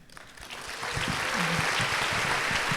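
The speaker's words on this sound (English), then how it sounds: "let's give Erika a big round of applause" An audience at a live talk event in Chicago breaks into applause, a dense wash of clapping that swells from a quiet start and holds steady, with faint voices underneath.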